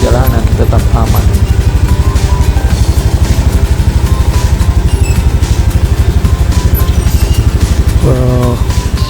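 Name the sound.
motorcycle engine on a mountain track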